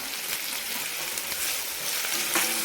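Tomatoes and onions fry in a pan as the base for a prawn curry, giving a steady, close sizzle with a faint clink near the end and no voices.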